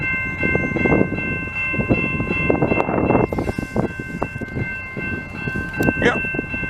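Montreal commuter train rolls past nearby in December with a loud rumbling, clattering wheels and steady tonal hum, while people talk over it.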